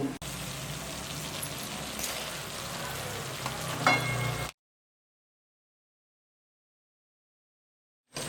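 Alliv seed ladoo mixture roasting in a pan gives a steady low sizzle with light stirring for about four seconds, then the sound cuts to silence.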